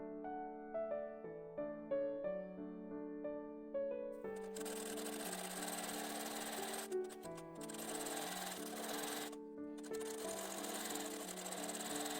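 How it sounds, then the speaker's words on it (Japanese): A sewing machine stitches fabric pieces of a tunic dress together. It starts under soft background music, then runs loud and steady with a dense whirring hum. The motor stops briefly twice and restarts, and nobody speaks. "縫えるところまでミシンをかけます。"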